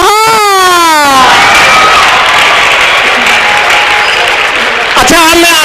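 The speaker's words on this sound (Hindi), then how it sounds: "लेकिन अब ताली बजनी चाहिए आप लोगों की" A crowd of students at a Hindi comic poetry performance applauds loudly with scattered cheers, the steady clapping framed by brief shouted voices at the start and again near the end.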